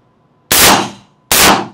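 Two loud rifle shots from a 14.5 inch rifle with an optic at an indoor shooting range, sharp cracks about 0.8 seconds apart, each with a reverberant tail.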